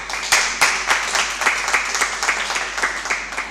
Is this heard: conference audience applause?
yes